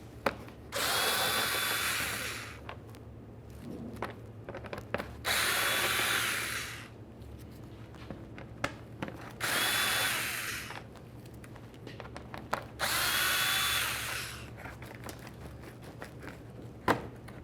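A power drill backs out Phillips head screws from the front bumper of a 2012-2018 Nissan Altima, four loud whirring bursts of about two seconds each, separated by quieter gaps with small handling clicks.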